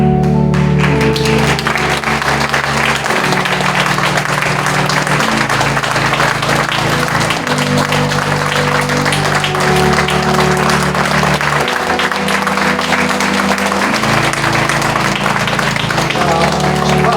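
A church congregation applauds at a pastor's installation thanksgiving service, with dense, sustained clapping from a large crowd filling the room over steady instrumental music for the whole stretch.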